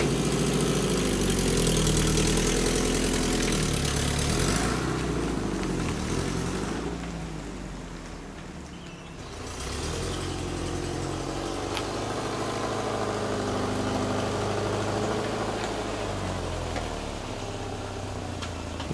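A car engine idles with a low rumble, dips briefly, then picks up again as the vehicle slowly drives on a driveway with a custom tow bar fitted, steady and close throughout.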